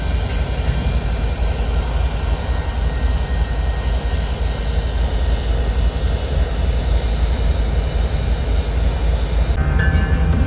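A freight train with several locomotives rumbles past during a blizzard in Missouri Valley, Iowa, a loud steady low roar of engines and wheels lasting the whole stretch, with wind noise mixed in.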